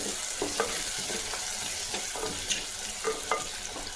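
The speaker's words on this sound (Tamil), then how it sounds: "இந்த வெங்காயம் நல்லா செவந்து வரட்டும்." Onions, garlic and chili fry in a pan for a kuzhambu with a steady, close sizzle, punctuated by irregular stirring scrapes and clinks of a spoon against the pan.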